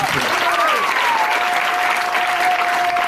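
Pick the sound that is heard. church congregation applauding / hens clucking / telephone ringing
church congregation applauding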